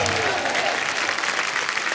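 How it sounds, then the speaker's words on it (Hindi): A television comedy show's studio audience breaks into loud applause welcoming Ajay Devgn, a thick, continuous burst of clapping that fills the whole two seconds. "एक बार जोरदार तालियां अजय सर के लिए"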